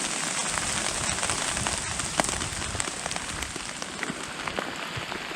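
Steady rain patters through a forest along the Quehanna Trail, a dense, even hiss with scattered individual drops tapping close by, continuous and unbroken with no voices.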